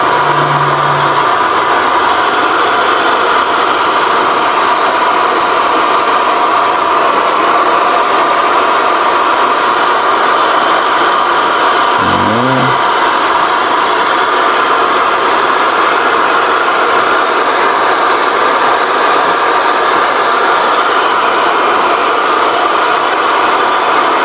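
A hair dryer blows steadily and loudly while drying a full skin base hair system at home, a constant airy whoosh with a brief low bump midway and no talk.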